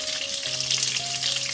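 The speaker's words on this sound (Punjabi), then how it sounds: "ਤੇਲ ਗਰਮ ਹੋਣ ਤੋਂ ਬਾਅਦ ਨਾ ਮੈਂ ਕਰੇਲੇ ਦੇ ਵਿੱਚ ਪਾਉਣੇ ਸ਼ੁਰੂ ਕਰ ਦਿੱਤੇ ਨੇ।" Stuffed bitter gourds sizzle and crackle as they fry in hot oil in a deep wok, a steady close spitting hiss, with faint tonal hums in the background.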